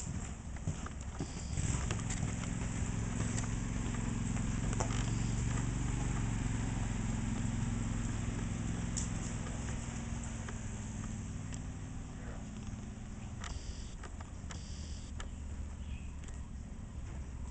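A horse canters under a rider in a schooling session, its hooves giving a muffled rhythmic beat over a steady outdoor rumble, moderately distant and faint.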